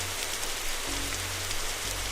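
Steady rain falls in the background, a constant broadband hiss with a low hum underneath that drops out partway through, no talking.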